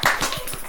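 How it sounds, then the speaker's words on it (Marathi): A few people at a haldi kunku gathering clap briefly, a short run of distinct close hand claps with small gaps between them, quiet and without talk. "टाळ्या वाजत."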